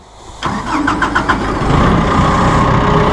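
A diesel tractor engine cranks and catches, with a rapid burst of starter pulses before settling into a steady, loud idle close by.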